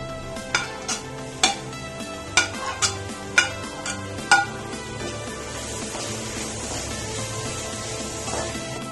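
Stuffed tinda masala mixture scraped into a pan and stirred, with several sharp spoon-on-pan clinks spaced over the first few seconds, then a soft steady sizzle underneath.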